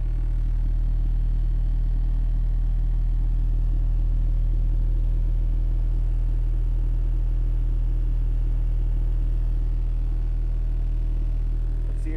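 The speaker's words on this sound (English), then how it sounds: "Oh, it's got a nice hum throughout the whole car." A 12-inch Audiopipe TXX BCD4 subwoofer, powered by a Kicker ZX 750.1 amplifier inside a car, plays a loud, steady low bass tone that hums continuously through the cabin with no talking.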